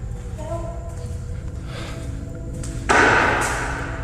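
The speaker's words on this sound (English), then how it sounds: "I'm actually hearing something banging on the door." Something bangs on a door in a building at night: a loud, abrupt thump stands out near the end over a steady low background hum, with a faint voice earlier.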